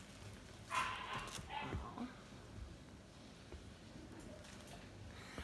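Faint puppy yips and soft whimpers, clustered early and fading, over low background noise and murmuring.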